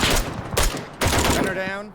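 Gunfire crackles in quick bursts during a military boat infiltration training exercise, several close, sharp shot volleys separated by short gaps, with a voice heard faintly underneath.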